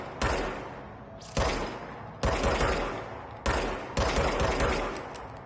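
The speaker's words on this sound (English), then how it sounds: "R2 to fire the gun." Gunshots from the player's pistol in the video game Control: four or five loud, sharp bursts at irregular intervals, each trailing off in a ringing tail, with no talking.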